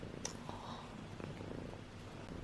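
A cat purrs softly and steadily close by, a low continuous rumble with faint rhythmic pulses, heard alone with no talk.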